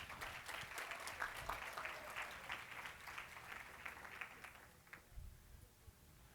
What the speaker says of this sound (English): Give them a round of applause for volunteering.